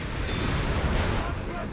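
Dense, continuous booming and rumbling of artillery fire and Panzerschreck rocket shots fills a Company of Heroes 3 battle, a loud wall of overlapping detonations with no break.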